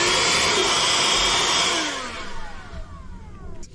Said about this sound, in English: That first hole is drilled.